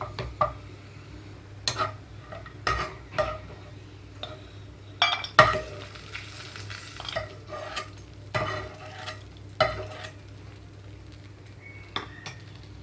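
Raisins frying in ghee in a pan for jaggery rava kesari, a soft low sizzle under repeated sharp clinks and scrapes of a spoon against the metal pan, irregular and close.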